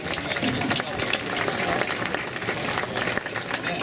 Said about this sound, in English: we can all give a round of applause to the South Bay